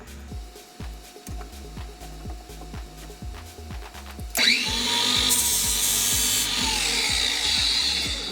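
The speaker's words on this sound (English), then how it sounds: "This side is a little bit heavier, so it needs some more sharpening." A lawnmower blade is worked by a blade sharpener with an adjustable guide: first a run of rhythmic rubbing strokes, then a louder steady grinding rasp that carries on to the end.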